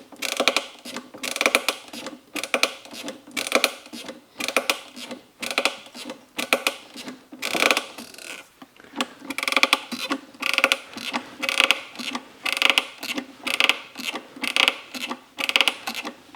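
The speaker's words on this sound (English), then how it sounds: "that's the relief valve." Rapid rhythmic clacking and ratcheting from a hydraulic press as its relief valve operates, a steady mechanical chatter pulsing roughly twice a second, close and continuous with no voices.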